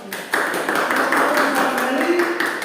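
A classroom group claps for group 1 in a lesson, with brisk, steady applause that starts after a brief pause and carries on evenly, mixed with a few voices.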